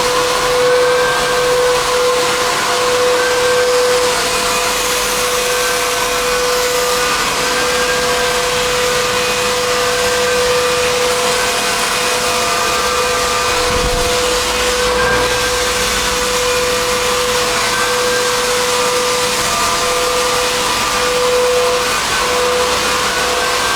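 A floor refinishing machine sands a Brazilian cherry hardwood floor in Newport Beach, giving a loud, continuous motor drone with a steady whine that holds unbroken for the whole stretch, with no talking.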